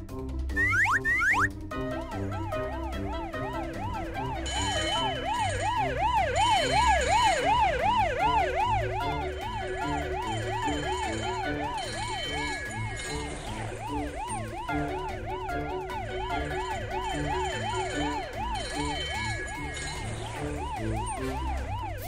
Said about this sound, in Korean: 대형 소방차들도 긴급 출동이다